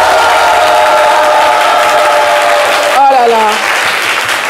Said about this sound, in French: Est-ce que le public peut applaudir pour Paul Madis?